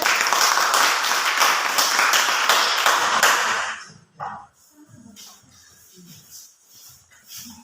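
Students in a classroom applaud a student group with a burst of quick, close hand claps for about four seconds, then it falls to quiet room shuffling and faint murmurs.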